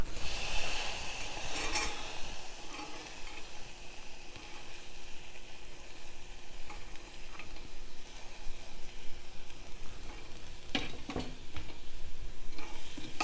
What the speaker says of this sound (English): now I am going to add my dal in here